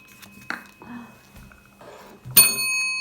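A bright metallic ring from a toy bell in a cup-stacking game bursts out near the end and sustains with clear overtones, following soft rustling and faint voices.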